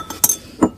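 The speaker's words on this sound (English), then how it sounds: "So if we give it a bit of a stir," Glass beaker clinking as a benzoic acid mixture is stirred, with a few sharp, close taps against the glass in quick succession.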